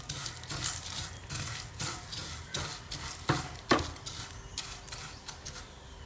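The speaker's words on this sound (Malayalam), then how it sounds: "നമുക്ക് ആദ്യം സേമിയ റോസ്റ്റ് ചെയ്തെടുക്കണം." Dry vermicelli (semiya) roasting in a pan, stirred with irregular scraping and clicking strokes over a faint steady sizzle, close and fairly quiet.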